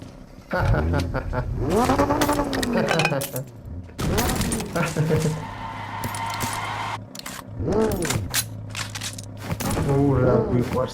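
A Lamborghini supercar parked beside a hospital revs its engine in repeated loud rising-and-falling blips, with a steadier drone between the bursts.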